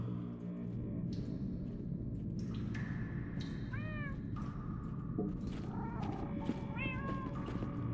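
Several cats meow faintly in the video game Minecraft Story Mode, short wavering cries scattered through a dense ambient rumble, a couple of distant mews in the middle and a few more toward the end.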